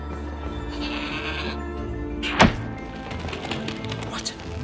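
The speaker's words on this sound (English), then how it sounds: "What an amazing goat!" A goat in the video game Trine 4 lets out a single loud, wavering bleat midway, standing out over soft game music and ambience.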